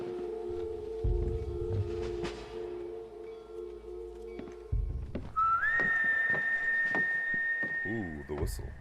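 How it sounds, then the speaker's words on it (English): A lone sustained whistled melody rises and wavers over twangy spaghetti-western title music in Red Dead Redemption, entering partway through after low drum hits and plucked notes. "Ooh, the whistle."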